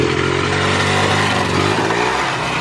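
Dirt bike engine revving hard before a jump over a person, a loud, close, rough motor roar that holds steady and then slightly drops in pitch.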